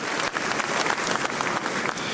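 Audience at a law school honorific lecture applauding, a dense, steady wash of clapping hands from a sizable crowd that holds at an even level for a couple of seconds.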